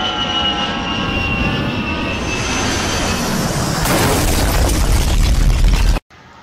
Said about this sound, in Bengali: আকাশপথে একটি প্লেনের সাথে একটি পাখির সংঘর্ষে প্লেনটি ধ্বংসকৃত হয়ে কিছুক্ষণের মধ্যে প্লেনটি ভূমিতে পতিত হলো